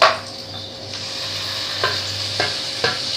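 Onions sautéing in a pan for a spicy chicken hotdog kuruma, a soft steady sizzle with a few distinct scrapes of a spoon stirring against the pan, close and without voices.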